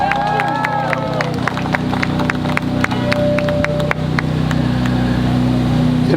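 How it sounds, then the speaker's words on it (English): A crowd at an outdoor rally against unpunished Serbian war crimes applauds steadily, with scattered sharp claps over a continuous wash of noise. A voice is heard briefly at the start. "Let's give her a round of applause."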